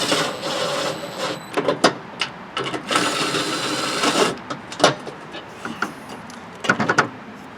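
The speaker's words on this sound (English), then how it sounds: "And we'll run them in with the drill." A cordless drill whirs in short bursts and one longer run, driving bolts into a Craftsman 42-inch lawn tractor mowing deck at close range with brief pauses between.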